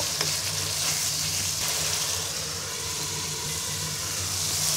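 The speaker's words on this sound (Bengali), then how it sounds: "এবার মশলাটাকে পাঁচ মিনিট কষিয়ে নিব" Masala with cumin powder and garlic paste sautéing in a pan for Bain fish curry, giving a steady loud sizzle and frying hiss with no pauses and no talk.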